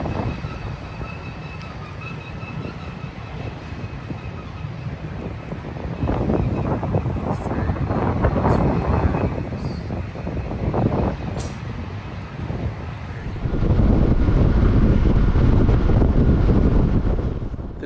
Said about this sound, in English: You do hear a significant amount of wind noise, but that's because there's a lot of crosswinds in this area.